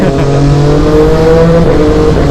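A Japanese supersport motorcycle engine revs loud and close, a sustained high-pitched tonal whine with rising and shifting harmonics throughout, no talking over it.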